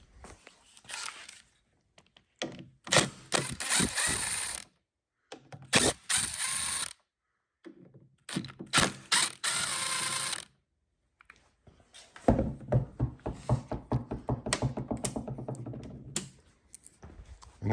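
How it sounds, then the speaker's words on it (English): A ratchet backs out T27 Torx screws from a Jeep Wrangler JK Unlimited rear door, with bursts of rapid close clicking pawl sounds separated by short silences, the last burst longest. "taking out the screws on this side, which are just, I think, T27 Torx"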